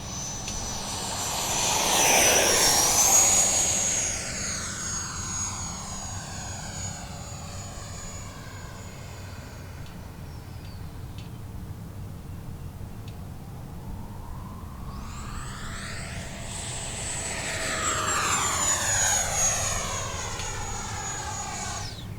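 An H-King Flycat V2 70mm EDF model jet makes two passes, its ducted fan whining high and sweeping in pitch as it nears and recedes, loudest around the start and again near the end, quieter in between.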